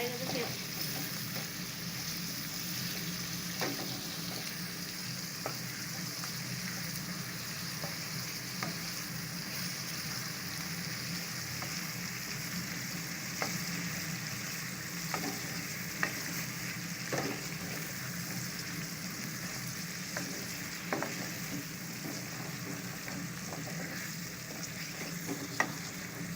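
Chicken qorma fries slowly in a pan over a low flame, with a steady soft sizzle and occasional faint stirring scrapes throughout.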